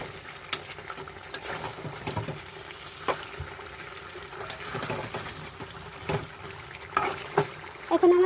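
Chicken sautéed over high heat for biryani, with irregular scraping stirs and clanks of a spatula against the pot over a low bubbling sizzle, moderately close with no voices.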